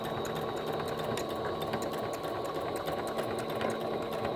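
A sewing machine hums steadily and close by, running without pause as it stitches across the bottom of a stuffed fabric elf leg.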